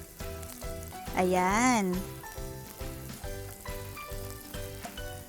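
Garlic sautés in a pan for adobo, a gentle crackling sizzle running beneath background music, with a brief spoken word partway through.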